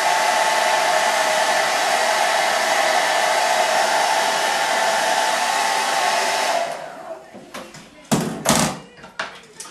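A hair dryer blows loudly and steadily on damp hair, then cuts off, followed by a few knocks and taps of handling nearby.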